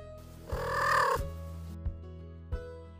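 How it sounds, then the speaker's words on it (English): A domestic cat's single short rising greeting chirp-like trill sounds close by, followed by a few faint clicks in otherwise quiet surroundings. "The first sound that our cats will make is a chirp or a trill."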